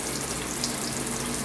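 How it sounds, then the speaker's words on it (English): Tap water runs in a steady, dense hiss while a poodle's eyes are rinsed, continuous and close with no voices. "you can have your water running and kind of just do this and go back and forth"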